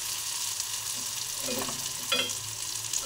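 Haimer chakke frying in oil while being stirred, a steady hissing sizzle with a few clinks and scrapes of the utensil in the middle, quiet and without talk.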